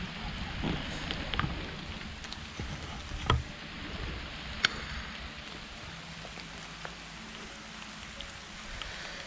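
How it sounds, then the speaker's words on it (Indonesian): Light drizzle falling at the Langsih cave, a soft steady patter of raindrops on surfaces with a few sharper drips and taps, continuous and fairly close, with no voices. "ditemani ya dengan rintik hujan yang membawa kesahduan tersendiri begitu"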